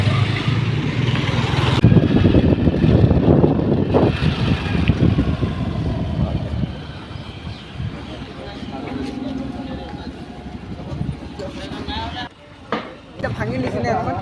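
A group of motorcycles rides together on a road trip, their engines droning steadily at close range, while someone talks over the noise.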